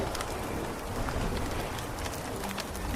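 Heavy rain pours down in a Bengali horror cartoon at a cremation ground, a dense, steady, loud hiss of falling water that fills the whole moment without pause.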